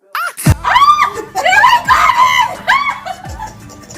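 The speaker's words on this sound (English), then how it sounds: "Why are you screaming?" A person screaming in short, high, wavering bursts, several loud cries in a row with brief gaps between them, mixed with laugh-like gasps and sharp breaths.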